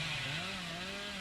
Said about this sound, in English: And a very loud chainsaw.